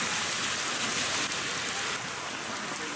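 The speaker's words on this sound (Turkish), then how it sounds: "Kısa süre etkili olan sağanak sokakları adeta göle çevirdi." A heavy rain shower pours in Düzce, Turkey, a dense, loud, continuous hiss of rain striking the street and surfaces, with no voices.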